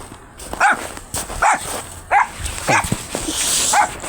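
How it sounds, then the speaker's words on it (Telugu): A dog in a village yard lets out five short, high yipping barks spaced roughly evenly apart, fairly close over faint background noise. "మళ్ళీ అట్లా వస్తుంది కుక్కదే తిరుక్కొని."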